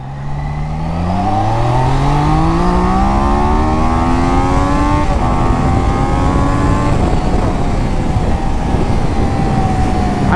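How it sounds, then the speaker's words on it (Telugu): A Triumph Daytona 660 motorcycle engine drops through the gears with rev-matched downshifts, each blip rising then falling as engine braking pulls it down, loud and close with steady wind rush and no talk. "రివ్ మ్యాచింగ్ చేసుకుంటూ మనం డౌన్ చేసినాం అనుకోండి, చాలా తొందరగా స్పీడ్ అనేది కంట్రోల్ అవుతుంది."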